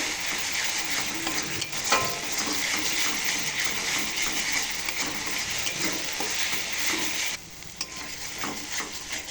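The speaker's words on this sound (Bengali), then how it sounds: "এই দেখো তেলে নেড়ে এটাকে পুরো একদম শুকনো করে ফেলবো।" Coriander paste stir-fried in hot oil sizzles loudly and continuously, close up, with scraping stirs in the pan throughout and no talking.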